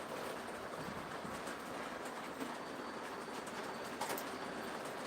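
A model train running along its track, a steady close rolling rumble with faint clicking from the wheels and a couple of small squeaks, with no talk.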